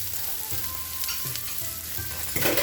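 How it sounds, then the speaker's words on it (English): Baby bok choy stir-fries in hot oil, a dense, loud sizzle with rhythmic scrapes and tosses of the vegetables every half second or so. "Just the fresh vegetables in that hot oil."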